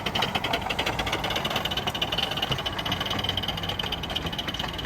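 A model steam locomotive at the IMLEC 2022 competition at Guildford model engineering society pulls away from a start under heavy load, giving a steady, fairly quiet mechanical chuffing and rumble with a faint background hiss that carries on throughout.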